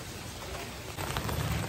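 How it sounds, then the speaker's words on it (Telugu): Heavy rain pours steadily in Vizag during wedding festivities. It makes a dense, even hiss that grows a little louder partway through, with no voices. "చూడండి, ఫుల్ వర్షం."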